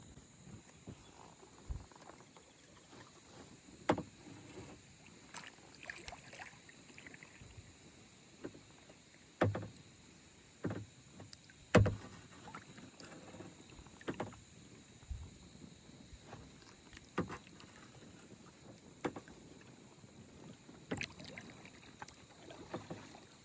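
Kayak paddling on the Des Moines River: faint, irregular paddle strokes and water dips recur every second or two over a quiet outdoor background with insects, with no talking.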